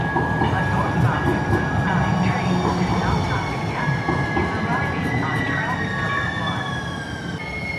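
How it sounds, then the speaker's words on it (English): A Mall of America light-rail train on the Blue Line track gives off a steady, loud rumble with thin, high squealing tones running through it, with a voice faintly present. "Oh, there's the Mall of America train, but it's on the opposite side of the track."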